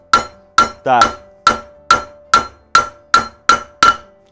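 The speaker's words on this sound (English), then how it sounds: "your hammer blows are straight down" Steel hammer driving a drift to seat a valve guide in a Classic Mini cylinder head, ten sharp metallic strikes at an even pace, loud and close, with a brief spoken word among them.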